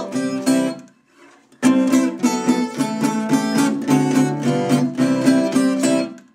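Acoustic guitar plays a fast, punchy verse of a song in a Delta blues style, strummed chords alone and up close, with a brief pause near the start and no voices.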